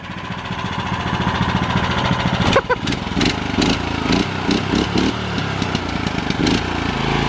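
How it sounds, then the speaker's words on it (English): An 18 horsepower big block engine, pull-started, runs steadily and loudly with a rough mid-pitched chug, punctuated by a brief stutter and clanking transients partway through. "Big block pull start."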